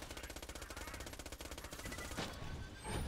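Rapid, evenly spaced bursts of Actualizer SMG fire in Borderlands 2, a fast mechanical rattle running for about two seconds before stopping, followed by a couple of softer clanks, with no talk.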